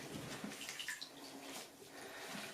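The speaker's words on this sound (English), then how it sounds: "the tap's just gurgling" Running water from a sink tap gurgles and splashes steadily at close range during a hair-washing session, a continuous hissing wash with small bubbling spurts.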